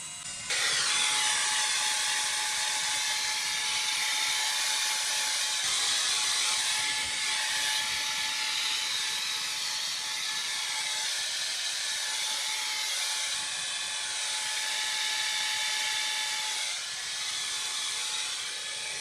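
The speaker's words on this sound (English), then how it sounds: "one last blast with the air blower to finish it off" Air blower blasting dust out of a PS5 CFI-1015A console, a steady high-pitched hissing whine with a thin tonal edge, held continuously for most of the stretch at a moderate level, with no talk.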